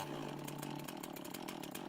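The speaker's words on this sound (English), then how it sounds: "The sound of a ready chainsaw." A chainsaw running steadily at idle-to-mid throttle, a buzzing whir with rapid pulsing, heard alone in a horror narration setting without speech.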